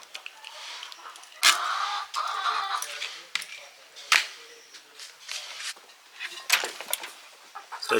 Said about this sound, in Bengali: আমার যে তো সাদা মুরগিগুলো ডিম পাড়া শুরু করেছে